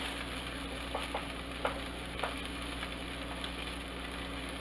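A corned beef burger patty frying in a pan, a steady soft sizzle with a few faint clicks and pops over a constant background hum.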